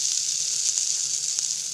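Turmeric powder is stirred into a frying pan of hot oil, giving a steady, close sizzle with a few faint scrapes of the spoon.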